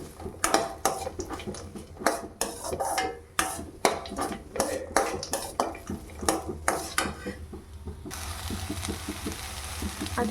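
Tomatoes fry in a pan while a utensil stirs and scrapes against the metal in quick repeated strokes, loud and close over a low sizzle, and the stirring gives way to steadier frying near the end.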